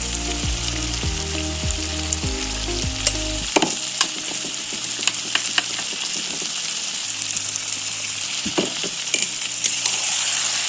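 Spices such as turmeric and chili powder are stirred into hot oil in a pan, giving a steady sizzle with scraping clicks of the spoon against the metal.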